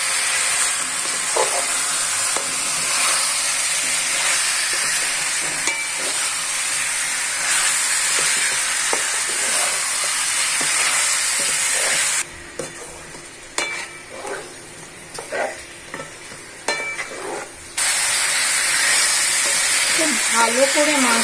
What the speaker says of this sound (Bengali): ভালো করে মাংস কষে নিতে হবে।